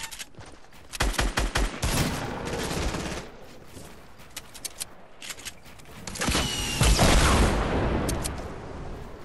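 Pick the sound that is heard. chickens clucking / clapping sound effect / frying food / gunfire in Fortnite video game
gunfire in Fortnite video game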